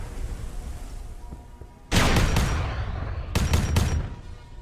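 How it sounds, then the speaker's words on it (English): Gunfire in the Arma 3 video game, with two loud bursts of rapid shots close together, separated by a short pause, over a quieter background. "Is this what he's shooting at?"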